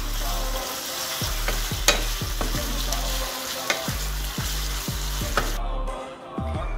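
Sofrito with paprika stirred in a sizzling pan, a spoon scraping in repeated strokes over continuous close frying.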